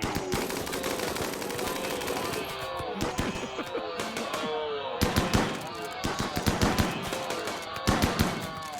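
Rapid minigun bursts from the video game RimWorld, a dense rattle of repeated shots over layered game effects, with louder volleys near the middle and end while a voice talks throughout.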